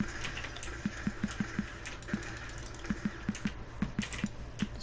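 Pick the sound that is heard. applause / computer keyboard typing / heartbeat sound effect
computer keyboard typing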